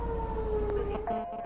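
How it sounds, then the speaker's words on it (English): A siren wails through the dark in rural Northern California, calling volunteer firefighters to the station, a steady sustained tone that shifts slightly in pitch over a low rumble. "40 seconds after his initial call for help, a siren wails."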